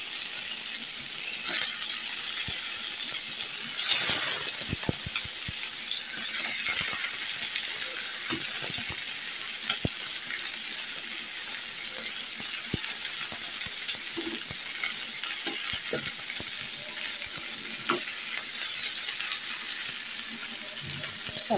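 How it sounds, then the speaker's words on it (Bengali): Meat fries in white oil for Arabian kabsa, a constant close sizzle with occasional clinks and scrapes as pieces are moved in the pan. "এবারে আস্তে আস্তে এগুলো ভেজে নেব"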